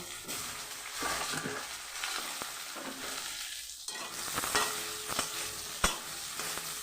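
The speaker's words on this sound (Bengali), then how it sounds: "এবার ওই মাছ ভাজার তেলেই আমি বেগুনগুলোকে ভেজে নেব" Eggplant frying in a pan of oil already used to fry fish, a steady dense sizzle with occasional stirring clicks and scrapes, close and continuous with no talk.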